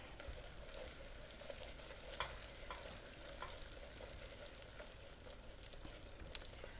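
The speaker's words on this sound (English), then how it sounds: "last bit of the butter. Stir him in." Butter gets stirred into cooking caramel sugar in a pan, giving a continuous soft bubbling sizzle with occasional faint spoon taps against the pan, close and quiet.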